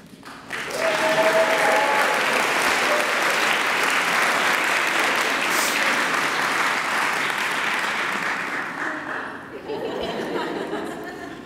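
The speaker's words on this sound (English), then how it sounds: "I told you they were going to clap." Audience applause at a graduation ceremony, a full hall clapping steadily for about ten seconds with a few chuckles mixed in, then tapering off into softer scattered claps.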